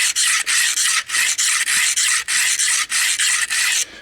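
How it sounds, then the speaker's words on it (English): A pocket knife is drawn across the 300 grit side of a Harbor Freight diamond hone block in rapid, even back-and-forth strokes, each a close, harsh scrape with short pauses between. "now let's take my little pocket knife here, and on the 300 grit side"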